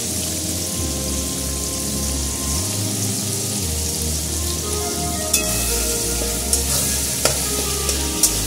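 Onions dropped into hot oil with whole garam masala and bay leaves for a mutton curry crackle into a loud, steady sizzle, low rumbling underneath and a few sharp utensil clinks near the end.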